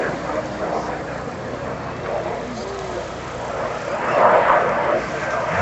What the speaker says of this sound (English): here comes Bud Granley and the Fouga Magister doing a slow roll